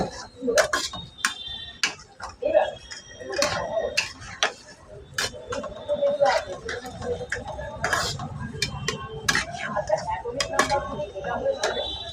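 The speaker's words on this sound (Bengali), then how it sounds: "নুন দিয়ে এখন নাড়তে শুরু করলাম" A spoon stirs mung dal with salt in a pot, making irregular light clicks and scrapes against the metal that run throughout, with a voice talking alongside.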